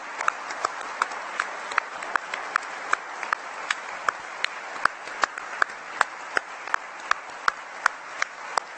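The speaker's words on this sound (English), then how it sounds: "I'd like to applaud everyone here who is a part of it" An audience at an event about the original iPhone claps in a thin, sustained patter, with sharp individual claps sticking out irregularly over a steady background hiss.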